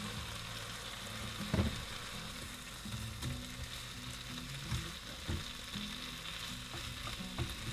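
Halloumi sizzles and crackles steadily in a pan with garlic, cooked in a van kitchen, with a soft continuous hiss, occasional pops and faint stirring knocks, quiet and close with no talk.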